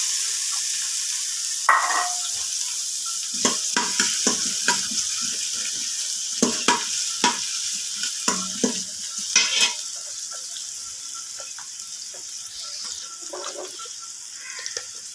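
Onions fried in oil with salt inside a rice cooker while making mutton chana dal, a bright steady sizzle with a run of sharp spoon knocks and scrapes through the middle; no voices.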